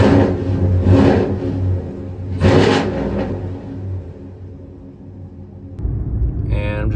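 A 2014-2018 Chevrolet Silverado pickup drives down the road with a steady low engine rumble and road noise that swells and eases, heard from inside the cab, with a brief electronic chirp near the end.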